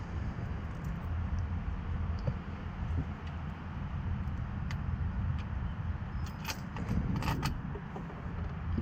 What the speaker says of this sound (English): now from the top, you could just slide in your bolts